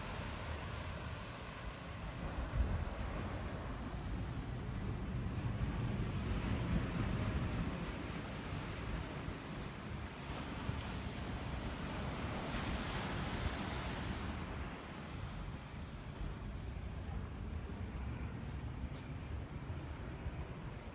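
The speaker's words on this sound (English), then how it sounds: "it's right above Seacliff Beach. And you can see that the waves are crashing." Ocean waves crash and surge onto Seacliff Beach in Santa Cruz below a cliffside home, a steady, loud roar of surf with wind buffeting the microphone and no voices.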